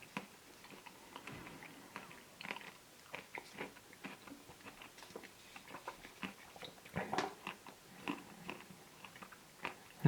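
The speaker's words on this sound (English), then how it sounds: "Let's give this a bite now." Close, crisp bites and chewing into a Magnum Bon Bon white chocolate and cookie ice cream, a string of small crunchy clicks and soft mastication with no talking.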